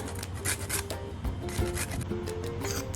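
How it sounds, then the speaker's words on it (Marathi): A little nutmeg grated for Marathi kapnya dough, a close, continuous dry rasping scrape in rapid repeated strokes, with no talking. "एक एक चमचा किंचित जायफळ खिसायचे आपल्याला"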